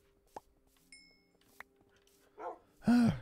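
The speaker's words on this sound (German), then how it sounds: "Jetzt haben wir hier Hunde, jetzt sind wir nicht mehr so einsam." Dogs in Minecraft give a few short, sharp yaps, spaced apart over faint game tones and small chimes, ending in a louder bark burst.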